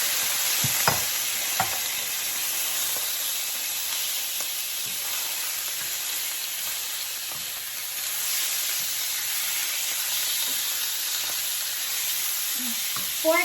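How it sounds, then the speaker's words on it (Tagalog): Pork belly and garlic sautéing in a pan for adobo, a steady close sizzle and hiss with scattered clinks and stirring scrapes throughout. "And then we're sauteing."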